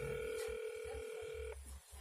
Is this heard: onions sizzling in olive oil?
no